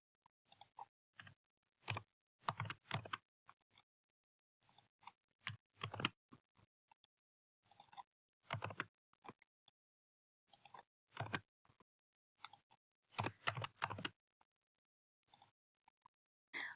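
Computer keyboard typing, quiet and close, in short irregular bursts of clicking keystrokes separated by pauses, with no other sound around them.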